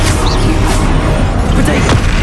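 Confringo spell blast going off in the Hogwarts Legacy video game, a loud booming crash amid a dense, continuous wash of combat noise with several sharp bursts over about two seconds.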